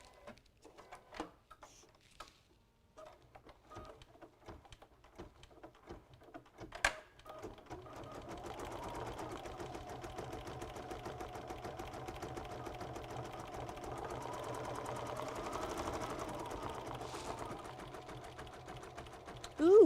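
An embroidery sewing machine stitches a fabric book cover, first in scattered short taps and clicks, then in a long steady rapid whirring run that continues to the end, fairly quiet and without talk.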